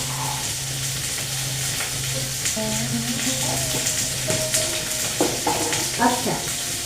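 A handful of green peas goes into a hot pan with bottle gourd and bitter gourd for a Bengali shukto, making a steady sizzle and frying hiss with clinks of stirring, while a voice talks over it.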